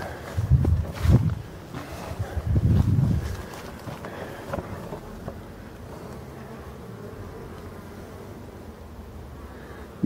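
Honeybees buzz at a late-summer beehive, a close, low hum with a few louder passes near the microphone early on, then a softer, steady drone with light wind noise.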